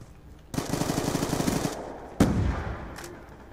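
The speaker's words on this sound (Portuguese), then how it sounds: "Pra que mirar, né, galera? Vai no hipfire mesmo." MSMC submachine gun fired from the hip in Call of Duty Black Ops 2, a loud rapid automatic burst of about a second, then a sharp second burst with a ringing tail.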